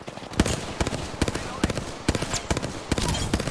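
Enemy gunfire rattles in a shooter game: rapid, dense bursts of shots in quick succession, loud and close, with mixed game noise underneath.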